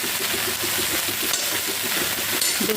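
Okra fries in hot ghee in a pan, giving a loud, dense, continuous sizzle and crackle heard close up without any talking.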